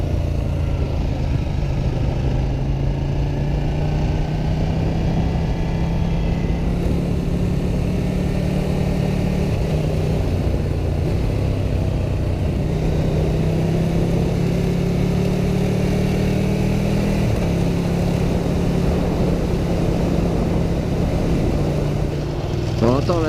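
Ducati 1299 Panigale and MV Agusta F4 sport bikes running on the road, a steady engine drone with gentle rises in revs lasting throughout, close and fairly loud.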